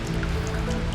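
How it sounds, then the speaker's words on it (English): Rain falls in a woodland, a steady soft patter with scattered close drips over a continuous low wash, no voices. "Rain began to fall onto his outstretched body"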